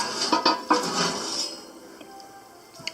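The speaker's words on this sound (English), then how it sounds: "I'm going to use the new frying pan." A new frying pan clatters and clinks against other pans as it is handled in a kitchen, several close metallic knocks in the first second and a half, then quieter faint rattles.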